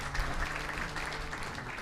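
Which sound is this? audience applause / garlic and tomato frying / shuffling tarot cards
audience applause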